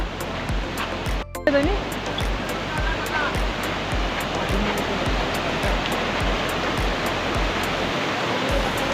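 Continuous roar of a rushing monsoon river, loud and close, with a short voice fragment early on and regular low thumps underneath.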